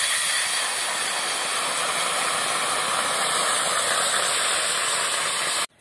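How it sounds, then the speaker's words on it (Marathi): Steady broadband hiss and low rumble of water heating in a kadhai on a stove, constant and fairly loud throughout, cutting off abruptly at the end. "तर आता लगेच कढईमध्ये पाणी तापवायचं आहे"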